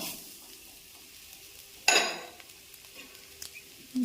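Grated coconut drops into a hot pan of shallots, ginger and garlic on low flame, giving one sudden burst of sizzling that fades, followed by faint stirring scrapes.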